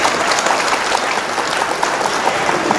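An audience at a shayari poetry recital bursts into loud, sustained applause, a thick continuous roar of many hands clapping close and evenly for the whole stretch.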